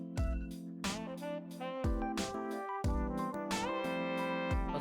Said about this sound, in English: That's my alarm going off, I'm sorry.